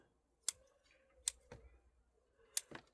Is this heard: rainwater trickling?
no